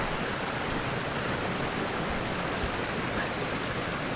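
At a wilderness hot spring, water pours over rocks in a steady, dense rushing hiss that continues unbroken and close, with no voices.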